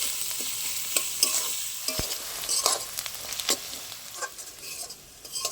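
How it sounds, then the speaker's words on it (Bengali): Onions fry in hot oil for chicken biryani, a close, steady sizzle broken by the scrape and clack of a spatula stirring them at irregular intervals; nobody talks. "পেঁয়াজগুলো ভালো করে লাল লাল করে ভেজে নেব।"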